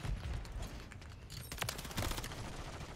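Dense rapid gunfire from the Call of Duty video game on the Shipment map, a Hardcore Kill Confirmed match, with overlapping bursts and sharp cracks stacking up continuously at close range.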